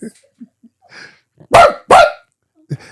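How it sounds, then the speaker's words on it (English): A small dog gives two sharp, loud barks in quick succession close by, with a few soft, faint sounds before and after. "is that like a little bitty dog? That sounds like a"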